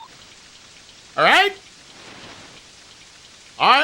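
Steady rain hisses through the whole stretch in the SNES fishing game TNN Bass Tournament of Champions, a soft even wash broken by two short bursts of speech.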